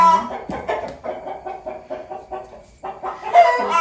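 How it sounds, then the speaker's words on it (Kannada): Chickens clucking outside a village home, a run of close, fairly loud clucks and short calls in an uneven rhythm with a brief pause near the end, heard alone without talk. "ಹೊರಗಡೆ ಕೋಳಿ ಬಂದಿದೆ ಅನಿಸುತ್ತೆ"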